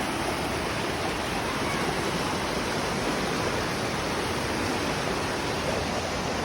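A waterfall in Lianga roars as a steady, dense rush of falling water, loud and close, filling the whole stretch without pause and with no voices over it.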